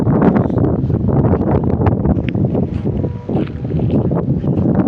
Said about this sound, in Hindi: जिस तरह ठंडी ठार तेज़ हवा, खतरनाक तेज़ हवा भी आ रही है।